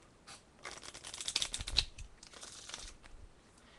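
Japanese kana flashcards are shuffled by hand, making a brief close flurry of crisp papery riffling and flicking that swells and then fades.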